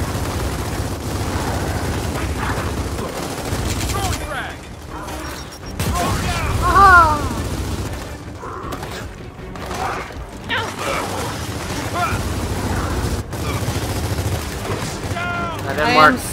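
Blind-fire bursts in the Gears of War 4 co-op game, clusters of rapid gunshots and mechanical weapon clatter mixed with game effects, while players talk over the action.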